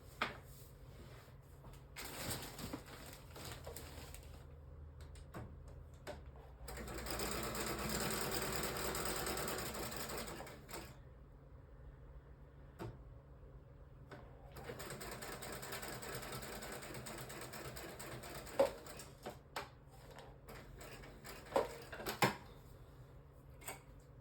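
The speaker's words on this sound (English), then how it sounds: "you'll be able to hear me stitch" A sewing machine stitches through layered paper in two long running bursts, with quieter pauses, small clicks and handling sounds between them. It is fairly faint, with no talking.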